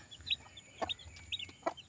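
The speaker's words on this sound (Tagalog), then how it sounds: "bagong panganak na manok" A brood of twelve newborn chicks cheeping in short, faint, high-pitched peeps, several in quick succession and heard alone.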